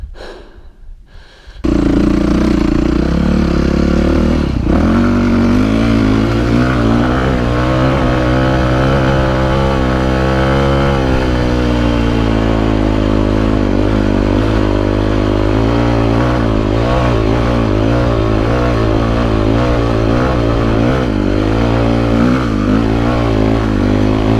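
Yamaha YZ450F dirt bike engine running steadily and loud on hard enduro trails, a close, sustained drone with shifting revs over about twenty seconds after a brief quiet start.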